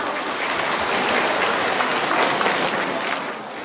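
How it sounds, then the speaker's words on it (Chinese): A concert crowd at a Mother's Day music celebration applauds the performers, a thick, sustained roar of clapping from a large audience that stays loud and even from start to finish. "掌声再次送给他们好吗"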